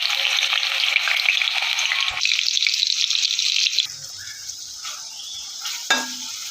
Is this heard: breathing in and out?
no